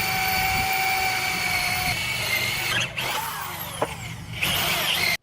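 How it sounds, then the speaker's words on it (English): A power drill whines steadily as it bores holes into wooden logs for a DIY log cabin in the mountains, loud and close, with brief dips in pitch as the bit bites and a sudden stop at the end. "Precisely drilling holes in the wooden logs."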